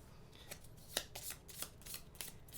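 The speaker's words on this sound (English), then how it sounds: "So we are going to shuffle these up." Board game cards being shuffled close up, a run of quiet riffling and papery flicks in an uneven rhythm, with no voices.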